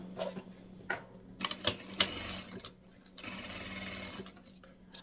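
A sewing machine runs its presser foot around the edge of a small fabric phone case, giving a quiet, steady stitching whir broken by a few sharp clicks, with no talking.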